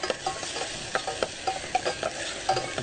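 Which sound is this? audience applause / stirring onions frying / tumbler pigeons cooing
stirring onions frying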